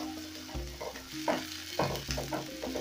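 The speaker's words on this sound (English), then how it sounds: "So I'm going to saute this, and once they turn translucent" Ingredients for a chicken liver stew sautéing in a pan, with a light sizzle and a few stirring scrapes over a steady low tonal hum.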